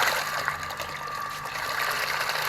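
Steady whooshing water flow with a constant motor hum underneath, continuous and fairly close, from a RUDES QB60 370W vortex electric pump running.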